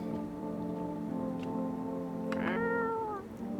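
A cat meows once in a horror video game, a short rising-falling cry heard against a steady droning, humming game background.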